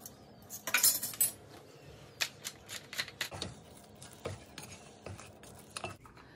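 Utensil stirring eggs in a pan, a series of irregular close metallic scrapes and clinks against a quiet background.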